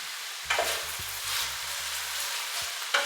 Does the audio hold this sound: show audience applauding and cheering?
no